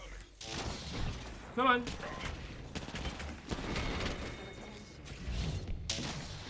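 A frag grenade blast in the Apex Legends video game lands amid bursts of gunfire and impacts, with a loud sharp crack near the middle and a voice speaking briefly over the chaotic battle audio.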